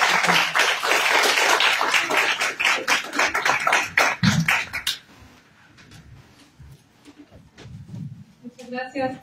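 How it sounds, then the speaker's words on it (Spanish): A crowd applauds loudly for several seconds at an academic seminar in Peru, then the clapping fades out and a few scattered voices and taps follow. "La recibimos con un fuerte aplauso"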